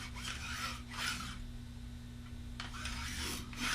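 Woodchuck taper plane shaving a wooden arrow shaft, giving soft raspy cutting strokes in short bursts near the start and again toward the end, with a quiet steady hum underneath.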